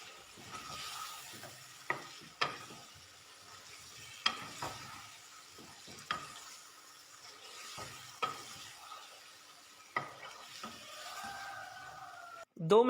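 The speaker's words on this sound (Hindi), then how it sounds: "सब्ज़ी और गोश्त शामिल करने के बाद मसाले के अंदर 2 मिनट के लिए हमने इनको लाजमी पका लेना है" Vegetables and meat (tinday gosht) cooking in masala in a pan: a soft steady sizzle with repeated sharp scrapes of a spoon stirring, fairly close, with no talking.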